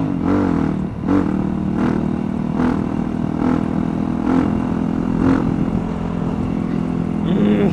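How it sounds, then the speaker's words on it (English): A motorcycle engine revs hard in a series of repeated loud throttle blips indoors, roughly one per second, with the idle rumbling between them. "Bike is loud in here."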